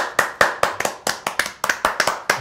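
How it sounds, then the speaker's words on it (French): A small audience claps in a sparse, uneven rhythm of about a dozen distinct hand claps, close and fairly loud, welcoming a guest onto a French-language sit-down talk show. "veuillez accueillir une bonne main d'applaudissements pour Carrie Price"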